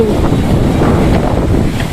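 Strong wind gusting at a fishing harbour where boats lie stranded, a loud steady roar buffeting the microphone throughout, with faint water movement underneath.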